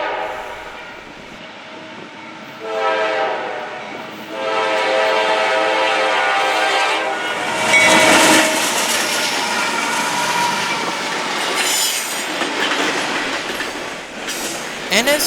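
A southbound Norfolk Southern intermodal freight train led by GE locomotives, a C40-9W and an ES44AC among them, rumbles past nearby with horn blasts, rising engine roar and clattering railcars.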